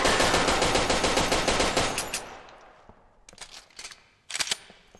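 Pistol fire in Ground Branch, starting with a fast, loud run of shots that trails off, followed by a few separate single shots and clicks near the end.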